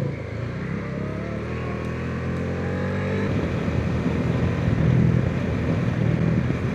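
A motorcycle engine hums steadily during a ride through Mangatarem, Pangasinan, its low drone growing rougher and louder as throttle rises midway, accompanied by wind rush; no talking.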